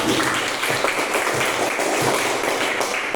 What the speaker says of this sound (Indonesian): Beri aplaus kepada teman kita